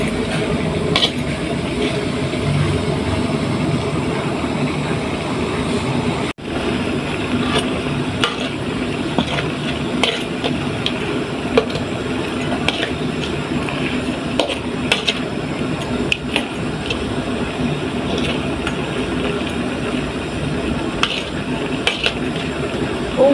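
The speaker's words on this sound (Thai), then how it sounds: "เดี๋ยวไปขัวกุ้งกันไป ทำมาขัวกุ้งไงขัวกุ้งใหญ่" Shrimp dry-roast in a pan for making a Thai-Lao pounded shrimp dip, a continuous scraping stir with steady clinks and a light sizzle throughout, close and moderately loud.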